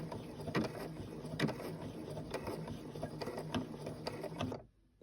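Brother A150 sewing machine stitching a button in place, slow repeated mechanical needle strokes with a steady whirring hum, close up, ending abruptly in silence.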